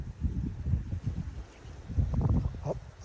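Wind gusts buffet the microphone on a riverbank while fishing, low rumbling bursts rising and falling in uneven waves, near and moderately loud, no talk.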